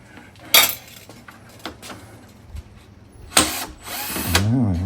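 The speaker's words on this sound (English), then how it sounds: "let me just put the screws in there." A power drill drives screws into the grille of a Toyota GR Corolla, giving a few short, loud whirring bursts separated by clicks and handling noises, ending in a longer rising motor whine.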